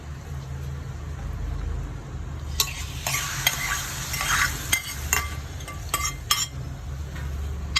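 Fried onions are tipped into a hot Angamali-style mango curry with the heat switched off. A low hum gives way to a burst of loud sizzling, and metallic clinks and scrapes of a utensil against the pot follow.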